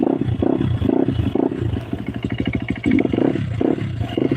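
A cold motorcycle engine runs loud and close, throbbing in uneven bursts with a rapid, steady putter through the middle.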